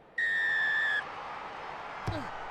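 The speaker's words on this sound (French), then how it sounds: "Coup de sifflet de l'arbitre, le match peut commencer" A referee's whistle sounds the kick-off of a Top 14 rugby match between Racing 92 and Montpellier: one steady, piercing blast of nearly a second, then low stadium ambience with a faint thud.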